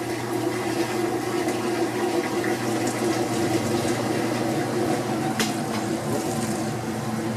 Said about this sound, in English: Now listen until the last drips of draining's gone through.